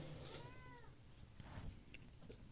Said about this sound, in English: Shut that goddamn cat up